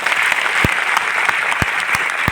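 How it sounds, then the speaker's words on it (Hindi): Applause from an audience at a success celebration in Delhi, a dense, steady patter of many hands clapping throughout, loud and close, with no voices on top. "बजाओ एक बार ताली।"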